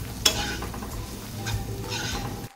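Homemade masala and red chilli powder stirred in a hot pan for a sprouted val bean curry: a sharp utensil clink at the start, then scraping and gentle sizzling heard up close, with no talking.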